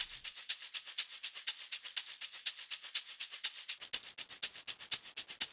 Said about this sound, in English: So without that bit crushing and sample rate reduction, it sounds like this.